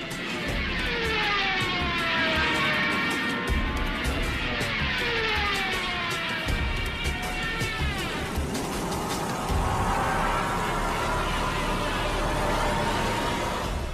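Aircraft engines roaring in flight during a fast evasive manoeuvre, a loud steady drone with sweeping rising and falling whines, continuous and close throughout.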